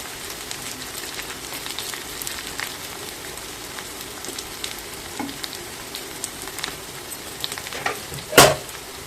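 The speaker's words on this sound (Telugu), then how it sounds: "బాగా వేయించుకుందాం." Raw banana curry fries in plenty of oil with a steady low sizzle and occasional stirring, ending with one sharp clatter near the close.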